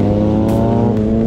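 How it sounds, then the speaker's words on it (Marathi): Motorbikes ridden by a group of bike riders pass on the road from Panvel toward Karjat near Sondai fort, making a loud, close, steady engine drone with no voices. "बाईक रायडर्स चालले"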